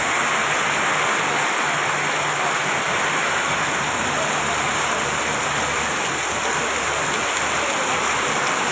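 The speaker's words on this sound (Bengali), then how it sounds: "প্রচুর পরিমাণ বৃষ্টি দেখছেন" Heavy rain pouring down in a steady, dense, loud roar that fills the whole stretch evenly, with no voices over it.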